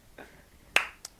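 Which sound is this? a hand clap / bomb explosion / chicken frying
a hand clap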